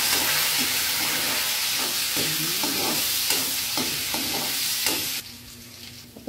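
Ginger hits hot oil in a pan and sizzles loudly and steadily, with stirring scrapes and knocks, before the hiss drops sharply near the end.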